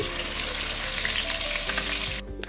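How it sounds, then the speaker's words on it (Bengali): Chicken leg pieces fry in oil for an Old Dhaka restaurant-style morog polao, giving a loud, steady, close sizzle that drops off abruptly near the end, followed by a brief faint knock. "তারপর আরেকটু তেল অ্যাড করে লেগ পিসগুলোকে দিয়ে দিচ্ছি"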